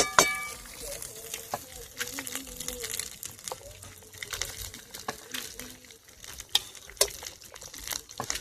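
Rice and vegetables being stirred and tossed in a pan while making fried rice, giving soft, irregular scraping and clattering strokes at low volume, with a voice speaking throughout.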